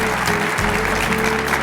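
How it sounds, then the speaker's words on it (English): Steady applause from a crowd, continuous clapping filling the space throughout. "Let's give our designers another round of applause."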